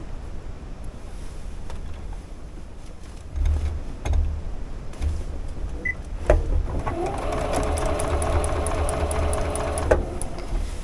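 A sewing machine runs in a quick, steady burst of stitches across tiny one-inch quilt block pieces, loud and close, after a few quiet handling noises and faint background hiss.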